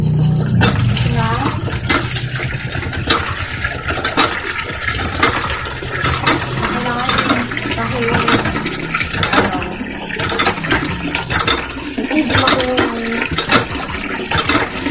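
A hand water pump is worked to fill a bucket for a water jar, with rhythmic creaking strokes over steady splashing and pouring water, and a few brief spoken words nearby.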